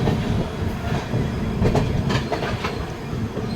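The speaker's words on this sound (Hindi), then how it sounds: "ट्रेन हम लोगों की 1 नंबर प्लेटफॉर्म पर पहुँच रही है हरिद्वार स्टेशन के" Doon Express passenger train rolling into platform 1 at Haridwar station, heard from on board as a loud, steady rumble with rhythmic wheel clatter and faint squeals, no talking.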